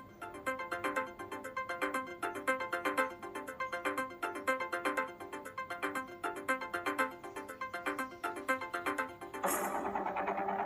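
A phone ringtone plays a repeating electronic melody steadily for about nine seconds, then cuts off into a brief burst of noise at the end.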